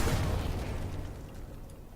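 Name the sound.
grenade belt explosion from the video game Sniper Elite 4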